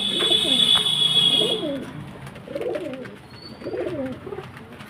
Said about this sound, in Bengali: খুব সুন্দর কোয়ালিটির পায়রা।